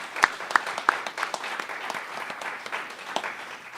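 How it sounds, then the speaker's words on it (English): Audience applause for musicians at a Thanksgiving gratitude music show, steady dense clapping with a few sharper claps standing out near the start, moderately loud and continuous. "Let's give them another round of applause."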